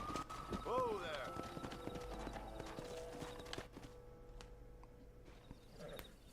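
Horse hooves clip-clop at a trot in the video game Red Dead Redemption, a steady rhythmic patter with a horse whinnying near the start and voices talking in the background.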